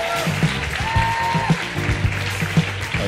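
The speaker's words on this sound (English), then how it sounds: "So please give my team, our team, a big round of applause." An audience at the Mrs Gibraltar Classic 2022 pageant show gives a round of applause, steady clapping mixed under music with a regular thumping beat throughout.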